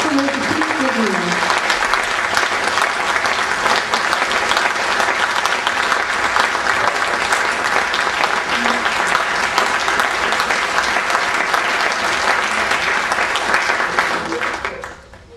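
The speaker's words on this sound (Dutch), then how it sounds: "Ik geef u een warm applaus voor deze vrienden te doen." Warm audience applause for symphony orchestra musicians in a concert hall, steady full clapping that carries for about fourteen seconds before fading out, with a voice briefly audible at the start.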